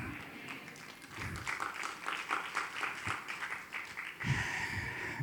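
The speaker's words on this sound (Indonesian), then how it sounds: "Saya apresiasi yang tepuk tangan." Scattered clapping from a church congregation, a modest round of applause that rises into denser clapping toward the end, moderately near with a roomy echo.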